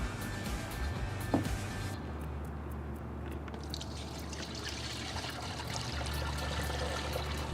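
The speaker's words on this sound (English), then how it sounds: "we want to pour our spray mix in" Spray mix pours steadily into a Stihl SR450 sprayer tank through a filter, a soft continuous gurgling and splashing that holds for several seconds at close range.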